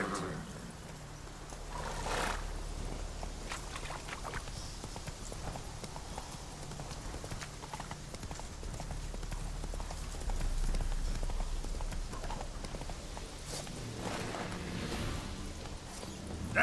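Roach, Geralt's horse in The Witcher 3, trotting with quiet rhythmic hoofbeats under a rainy, windy ambience, fairly faint throughout.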